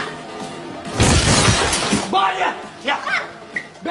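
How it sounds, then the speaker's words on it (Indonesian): A glass door shatters in a loud crash with a spray of breaking glass, followed by scattered tinkling shards and thuds as voices shout over it. "menabrak pintu kaca sampai pecah"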